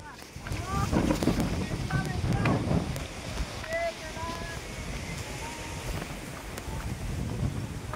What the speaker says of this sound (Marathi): तो हवा तर लय सुटले